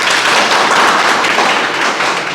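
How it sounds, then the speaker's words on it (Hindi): An audience claps for a student who wants to become a teacher, a loud, dense burst of hand clapping that stays steady and close throughout, with no talking over it. "ताली बजाइए इनके लिए।"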